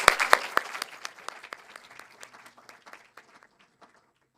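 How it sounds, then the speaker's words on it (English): An audience applauds panelists at an arts talk, starting with a few sharp, close claps, then thinning into scattered claps that fade to silence over about four seconds. "join me in saying a big thank you and a round of applause to our panelists"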